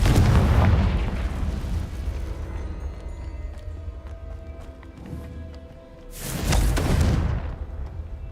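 Confringo fire spell explosions in Hogwarts Legacy boom loudly at the start, fade into rumbling debris, then a second powerful blast erupts near the end.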